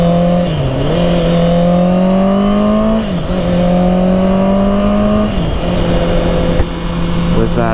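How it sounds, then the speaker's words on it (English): A loud 2020 Honda CBR650R with an Akrapovic exhaust idles and revs repeatedly, pitch climbing and dropping in several surges, close by and steady throughout. "With that sweet Akrapovic exhaust."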